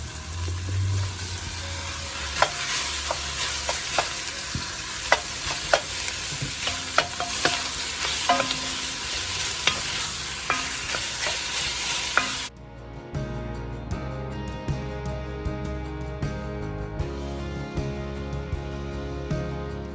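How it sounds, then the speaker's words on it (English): Beef cubes for chili sear in a hot pot with a loud, steady sizzle and crackle and occasional stirring clicks, the frying easing to a quieter hiss partway through. "beef cubes put in here. Like I said, I want to get some color on these before I add our ground beef."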